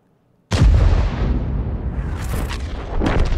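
An M53/M55 self-propelled artillery piece in a tank video game fires a shell: near silence breaks into one heavy, loud boom, followed by a long, rumbling roar.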